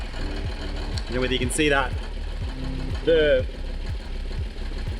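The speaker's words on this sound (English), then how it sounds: "you can probably hear a whole heap of rattling and stuff like that" A 1988 Toyota FJ62 with a loose exhaust, its pipe hanger rusted through, idles with a regular, rhythmic metallic rattle and knock, close and steady, while someone talks over it.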